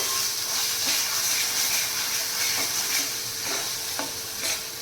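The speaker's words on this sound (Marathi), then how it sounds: "आता सर्व मसाले टाकल्यानंतर आपण आता हे छान मिक्स करून घ्यायचे" Spices are stirred into an egg masala gravy in a pan. A steady sizzle and hiss runs throughout, with soft scraping strokes of the spoon every second or so.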